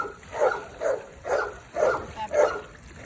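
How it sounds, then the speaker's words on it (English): A dog gives five loud, evenly spaced barks, each about half a second apart, over faint background noise. "That's why he's barking."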